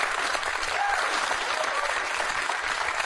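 A television studio audience at a comedy panel show claps in a continuous, full burst of applause, with faint voices mixed into the crowd noise.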